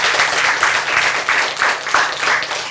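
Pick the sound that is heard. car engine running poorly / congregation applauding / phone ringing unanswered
congregation applauding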